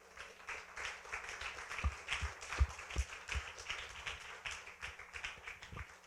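A church congregation claps their hands together, a dense and steady patter of many claps that stays fairly soft and somewhat distant throughout.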